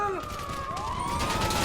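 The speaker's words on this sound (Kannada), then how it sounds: "ಅಯ್ಯೋ ಸೈರನ್ ಆಫ್ ಮಾಡೋಕ್ಕೂ ಬರಲ್ಲ ಗೈಸ್" A police car siren in the video game GTA wails close and loud, its pitch sweeping up and down over a steady engine-like rumble.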